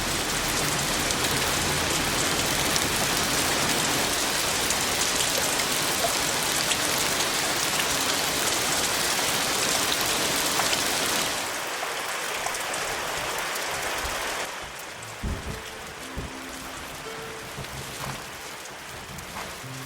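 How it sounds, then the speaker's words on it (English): Steady, heavy rain pours down at night, a dense continuous hiss that drops in intensity partway through, leaving lighter patter with scattered close drips and taps near the end. "When the rain arrives, a year's work can fall in a single night."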